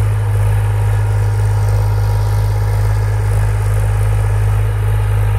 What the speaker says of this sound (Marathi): हे पहा मस्त आपल्या मस्तीमध्ये ट्रॅक्टर चालू राहिलं